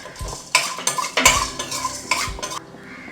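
Cumin, black pepper and coriander seeds dry roasting in a pan, with a utensil scraping and clinking against the metal in several quick, close strokes and a faint crackle beneath.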